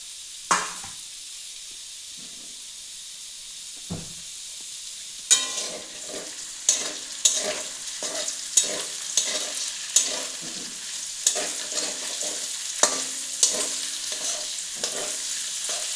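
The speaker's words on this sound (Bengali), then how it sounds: "এবার কড়াইতে পেঁয়াজগুলো দিয়ে দিলাম, এগুলো একটু লাল লাল করে আগে ভেজে নেব।" Onions frying in a wok for Bengali-style chicken kosha, a steady sizzle with repeated scraping stir strokes, close and moderately loud, with no talking.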